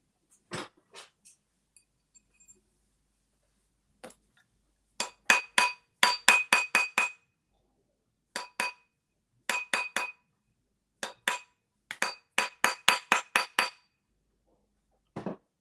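Bursts of rapid metallic hammer taps from a half-round hammer ringing brightly against a metal ring on a mandrel, struck in quick groups with short pauses between, close and clear with no talking.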